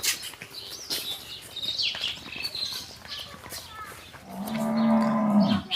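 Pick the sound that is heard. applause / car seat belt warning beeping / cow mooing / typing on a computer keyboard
cow mooing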